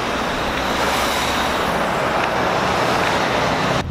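A loud, steady roar of a passing bus and road traffic fills the whole stretch close by, dense and unbroken until it cuts off at the end.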